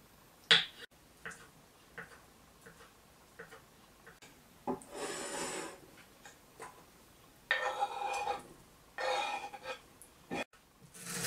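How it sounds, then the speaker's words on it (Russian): Knife chopping boiled egg and onion very finely into small cubes on a board, heard as scattered taps and short scraping bursts with quiet pauses between them, fairly close and with no talking. "Яйцо и лук нарезаем очень мелко кубиками."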